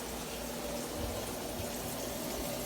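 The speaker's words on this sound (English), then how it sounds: "I'm gonna pour the juice out." Juice from a can of Rotel diced tomatoes and peppers pours out in a steady, soft, continuous liquid wash, close and unbroken, with no talking over it.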